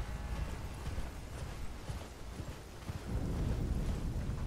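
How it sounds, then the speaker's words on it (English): A horse's hooves clop steadily along a rainy gravel mountainside in the Elden Ring video game. The dull, low thuds repeat at an even gait under a soft wash of rain and grow heavier toward the end. "the hoof beats of my horse clopping their way to untimely demise"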